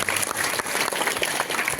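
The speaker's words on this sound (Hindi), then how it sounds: "उनके अनुपस्थिति में हम लोग उनके लिए ताली बजा देते हैं।" An audience at a parent-teacher meeting claps together in a steady, dense patter of many hands, filling the room evenly for a couple of seconds.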